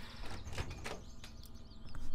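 A door swinging open in the video game Everlasting Summer, a short creak and slide with a few faint bird-like chirps in a quiet game scene.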